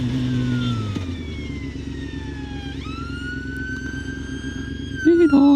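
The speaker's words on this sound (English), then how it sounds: "Ambulance is coming now." Ambulance siren wailing past on a wet, rainy road, heard from a motorbike over steady engine and road noise, its rising and falling tones sweeping across the whole stretch with a brief louder burst near the end.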